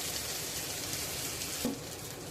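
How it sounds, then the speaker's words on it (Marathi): Kotya fish frying in a pan, Agri style: a steady, close sizzling hiss that continues evenly throughout with no voices. "पुन्हा आपण दोन मिनटं फ्राय करून घेऊया"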